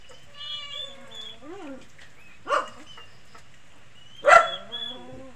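Hungry farm dogs give two short, sharp barks amid the plaintive, drawn-out meows of hungry cats waiting to be fed, the calls spaced apart with quiet gaps between them.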